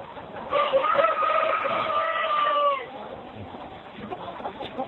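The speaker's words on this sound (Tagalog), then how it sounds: "Yan po yung manok na nangingitlog." A hen laying an egg calls close by with a long, drawn-out cackling cluck, then settles into quieter background noise.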